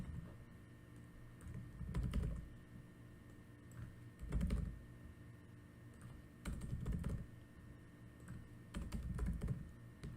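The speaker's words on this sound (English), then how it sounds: "using the arrow keys, I'm clicking up, down, left, right" Computer keyboard keys, mostly the arrow keys, pressed in four quick clustered bursts of clicks a couple of seconds apart, close and fairly quiet with a low room hum between them.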